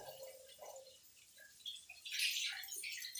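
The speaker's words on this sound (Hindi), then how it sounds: "पानी भी डालो ना ऊपर।" Water poured and dripping during ablution while washing the feet, soft splashes and trickles that grow louder midway, fairly quiet and close.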